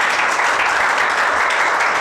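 Audience at a drug and alcohol de-addiction awareness session applauding, a loud, dense, continuous wash of clapping from many hands with no talking over it.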